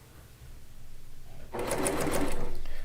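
A sewing machine fitted with an industrial HLX5 needle starts up partway through and runs in a steady, close, whirring stitch that grows louder, following a quiet stretch with only faint background hum.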